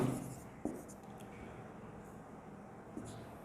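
Chalk or a marker writes a grammar sentence on a classroom board, a faint scratchy stroke sound with a couple of light taps in a quiet room.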